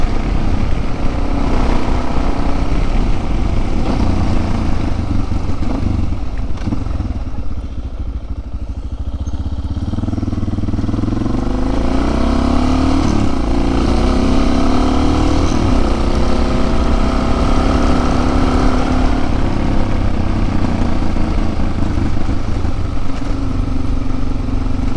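A dual-sport motorcycle rides a local trail, its engine droning loud and steady throughout with rising and falling revs as the rider works the throttle, and constant wind and road rumble underneath.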